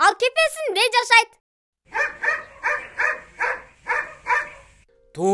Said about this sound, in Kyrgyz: Ит! Ал кепесинде жашайт.